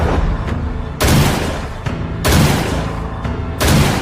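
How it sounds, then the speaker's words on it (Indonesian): Loud gunshots fired in a shooting contest, three sharp reports spaced roughly a second apart, each followed by a short decaying echo. "Lima tembakan."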